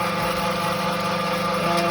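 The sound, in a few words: Chinese pellet granulator motor running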